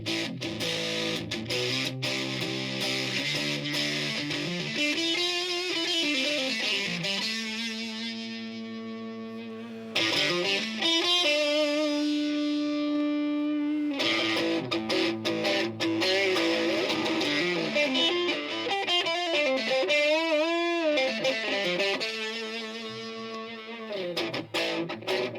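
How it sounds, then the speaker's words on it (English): An electric guitar played through a Boss DS distortion pedal rings out in sustained, gritty notes and slides, with a steady crunchy fuzz running throughout and no talking. "I think maybe what we're thinking here is the DS's distortion."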